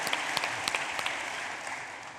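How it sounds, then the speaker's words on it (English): A conference hall audience at a Scottish National Party gathering claps for a first-time speaker, a steady wash of applause with a few sharper claps standing out, fading slightly toward the end. "I want a cheap clap because this is a first-time speaker as well"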